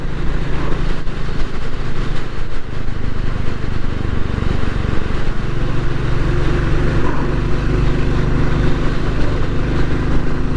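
Royal Enfield 350 single-cylinder motorcycle working harder on a Sunday ride along Cornish lanes, its engine a loud, steady, close throb that rises and holds under acceleration with wind rumble throughout, no voices.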